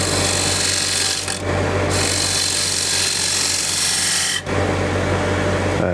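A wood lathe shaping a bead on a wooden holiday tray, a continuous scraping, rasping cut with a steady motor hum underneath, broken by two brief dips as the tool lifts off the spinning wood.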